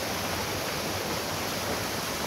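Creek water flowing steadily, a dense, constant rush and hiss with no breaks, fairly close and even throughout.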